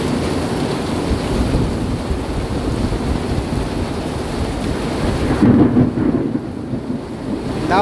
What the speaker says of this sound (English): That was a loud thunder there.